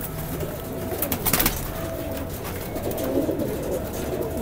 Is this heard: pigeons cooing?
yes